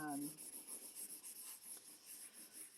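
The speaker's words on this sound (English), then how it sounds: "I'm using my blending stump quite a bit here" A blending stump works charcoal across paper while a horse head is sketched, giving faint, soft rubbing strokes in a loose rhythm, just after a brief bit of voice at the start.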